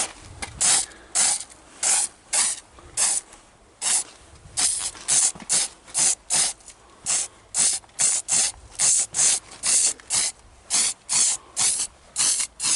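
Short bursts of spray paint hiss on and off in a steady rhythm, dozens of quick sprays with brief pauses between them, close and loud, painting a 1959 Ford Galaxie.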